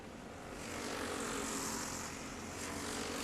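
Honda-engined Chonda go-karts race on track at the 2013 Lone Star Grand Prix, a steady, dense, buzzing engine roar that swells slightly and holds throughout.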